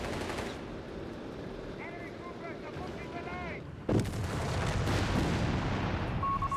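Artillery bombardment in Company of Heroes 3, with booming shellfire and rattling bursts in a dense, continuous battle din; a heavy impact midway sets off a louder, sustained stretch of explosions and gunfire.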